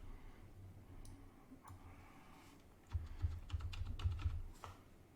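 Computer keyboard arrow keys pressed in a quick run of sharp clicks, a few isolated taps first and then a denser cluster, close by over a low background hum.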